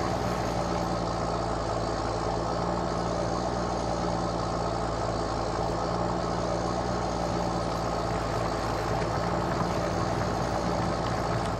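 A heavy tractor engine drones continuously with a deep, strained rumble, labouring while ploughing, steady and loud throughout with no voices.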